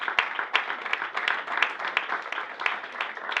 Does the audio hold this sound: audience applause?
yes